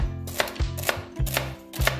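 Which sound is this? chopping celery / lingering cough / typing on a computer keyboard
chopping celery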